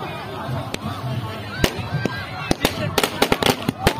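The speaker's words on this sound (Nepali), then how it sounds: "भाइ फेरि पड्काउ ल एउटा" Firecrackers set off during the Chhath festival pop in sharp bursts, a single crack first, then a quickening cluster of loud bangs toward the end, over nearby chatter and crowd voices.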